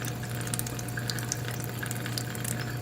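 Water from a small water sack running steadily through a face mask, a continuous trickling and splashing like a running tap, with a constant low hum underneath and no talking.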